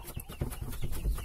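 One-month-old Kuchinsky and Adler breed chicks chirp and peep in short, repeated calls over a busy, noisy background.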